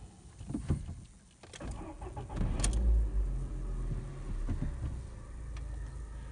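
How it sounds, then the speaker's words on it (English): Renault Sandero engine starting up and settling into a low, steady idle, heard from inside the cabin with a deep continuous rumble after a brief cranking burst, fairly quiet and with no voices. "let's start this car up and let's see how the sound isolation is from the engine"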